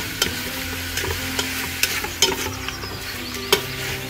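Chicken gizzards sizzle steadily in a hot pan while a spoon stirs them. Sharp scrapes and clacks against the metal land about once every half second over the continuous frying hiss, with no talking.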